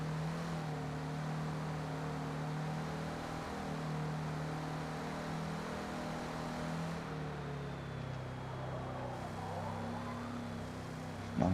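Car engine in Forza Motorsport holding steady high revs while climbing a hill, a continuous loud drone with a faint whine above it, no speech.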